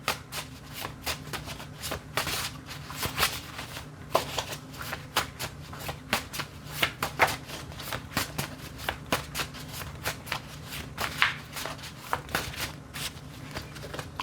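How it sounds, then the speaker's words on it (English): A deck of cards is shuffled by hand again and again, giving quick riffling flutters and soft slaps in an irregular, close, fairly quiet rhythm with no talking. "give me 3 more shuffles"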